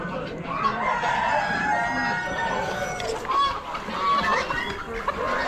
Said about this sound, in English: Young chickens.